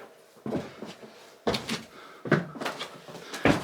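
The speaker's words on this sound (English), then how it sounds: "these stairs are uber creaky, and I could feel them give a little bit under my feet here" Creaky wooden stairs in an old building at the Death Valley Mine ghost town in the Mojave National Preserve, California, give under slow footsteps: several heavy, close thuds with woody creaks, spaced about a second apart, and no speech.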